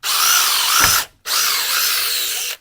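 A power drill pre-drills into metal during a tankless water heater install, whining loudly at high speed in two long bursts with a brief stop between them, close up and alone.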